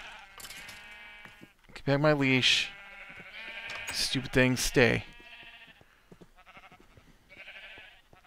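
Blocky sheep from Minecraft bleat in quick wavering cries, a few close loud calls mixed with softer ones, over a continuous musical game background while a person talks throughout.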